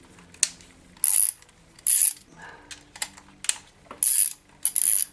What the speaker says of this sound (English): loosening up this screw, and now we take off